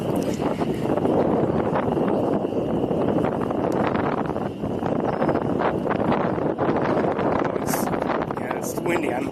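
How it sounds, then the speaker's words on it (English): Gusty outdoor wind buffets a handheld microphone on a bird-feeder walking tour, a constant loud rumbling roar with rustling, and a voice speaking underneath. "I'm sorry about the noise you're probably getting from the microphone and the wind."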